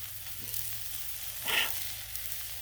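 Chicken halves sizzle on a Blackstone griddle, a soft continuous hiss with a brief louder crackling burst midway, heard close with no talking.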